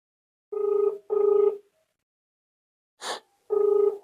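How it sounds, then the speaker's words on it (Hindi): A phone call rings out while dialing an official: three evenly paced ringback tones, a short burst of noise between them, and silence in the gaps, with no one speaking. "अब यहाँ पे मैं फोन लगाता हूँ"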